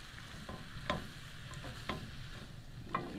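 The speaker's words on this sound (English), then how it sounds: "This is just kind of getting mixed in with my vegetables." Vegetables stirred and mixed in a pan off the heat, with leftover soup and sauce folded in: a faint, steady low sizzle broken by three sharp utensil clicks against the pan at roughly one-second intervals, no voices.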